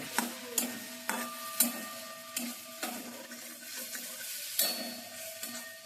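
Chicken meat for Chicken Manchurian sizzles and fries in a pan while a utensil stirs it, giving repeated soft scraping strokes at a steady rhythm over a constant hiss, close and fairly quiet, with no talking.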